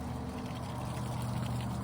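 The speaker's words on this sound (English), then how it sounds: "So I'll run this water" Garden water runs from a hose or tap in a soft, steady pouring trickle, faint and unbroken over a short stretch with no voices.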